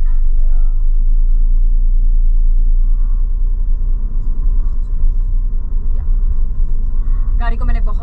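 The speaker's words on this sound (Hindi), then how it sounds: "गाड़ी को मैंने फर्स्ट गियर दिए हैं" A Maruti Celerio's engine idles low and steady after being put into first gear, a deep continuous rumble filling the cabin, with a driver's voice faintly over it.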